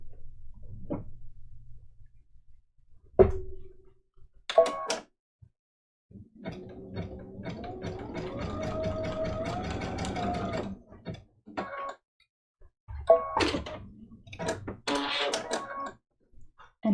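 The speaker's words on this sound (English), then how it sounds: "I'm going to stitch this little green smidgen of a fabric strip right there" A sewing machine stitches a small green fabric strip onto a scrappy Christmas stocking mug rug, its motor whirring in a steady run of several seconds, with short bursts of stitching and handling clicks before and after.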